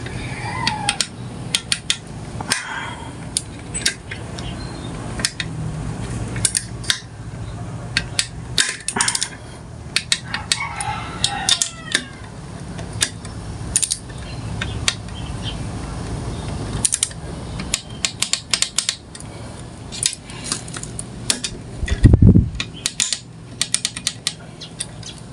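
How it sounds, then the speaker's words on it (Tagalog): A torque wrench clicks as engine screws on a Mio Sporty crankcase are tightened, a series of sharp metallic clicks and ratcheting taps scattered irregularly over quiet workshop background, close and fairly crisp. "Malalaman nga pala natin kung sakto na yung higpit ng ating tornilyo kapag ka pumitik na or lumagitik na itong ating torque wrench"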